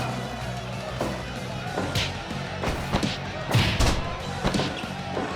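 Suplex slam in a house wrestling match: several dull thuds and body impacts land irregularly over a background of shuffling and scuffling, with a couple of heavier slams near the end.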